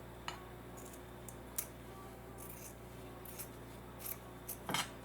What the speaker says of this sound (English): you're going to cut this band in half